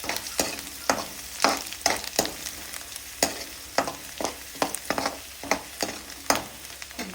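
Green chillies and garlic sizzle in a pan while being stirred, with regular scraping strokes roughly every half second over a soft, continuous frying hiss.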